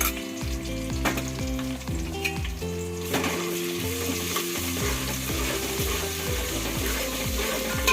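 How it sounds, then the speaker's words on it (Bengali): Onion with ginger-garlic paste fries loudly in a pan for chicken yakhni biryani, a constant close sizzle under rhythmic stirring and scraping strokes. "খুব ভালো করে ভেজে নেব, যেহেতু আমি এখানে আদা রসুন বাটা দিয়েছি তাই আমি একটু খুব ভালো করে ভেজে নিচ্ছি"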